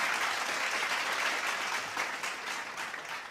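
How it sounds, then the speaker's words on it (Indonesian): A large audience at a Bank Indonesia annual meeting applauds warmly, with dense, loud, sustained clapping throughout and no speech. "Beri tepuk tangan yang meriah untuk program sosial Bank Indonesia Dedikasi untuk Negeri."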